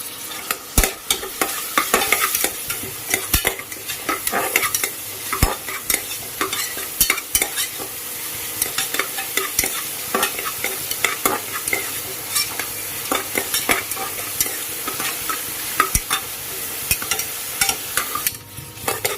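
Onion, tomato and curry leaves sautéing in a pan for chicken kuzhambu, sizzling loudly throughout with frequent sharp scrapes and clacks of a spatula stirring, close and unbroken, with nobody speaking.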